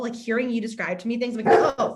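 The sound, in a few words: dog barking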